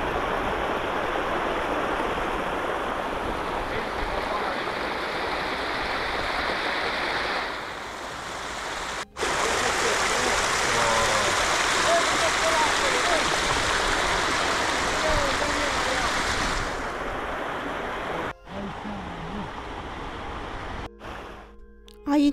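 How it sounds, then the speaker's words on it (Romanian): A waterfall seen from the Transalpina road in the Romanian mountains gives a steady, broad rushing roar that stays constant and fairly loud throughout, with brief cut-offs near the end. "Aici o frumoasă cascadă ce poate fi admirată chiar de pe Transalpina."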